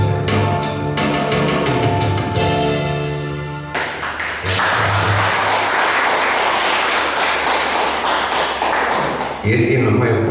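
A concert audience at a Serbian music evening bursts into loud, sustained clapping and cheering right after a sung number ends, the crowd noise filling the room for several seconds before a voice returns.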